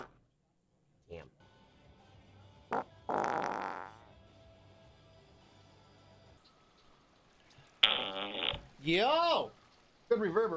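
Several loud, fleshy farts indoors, one short then longer sputtering bursts with wavering pitch, the last ones ringing with bathroom reverberation, separated by quiet gaps and brief bits of talk.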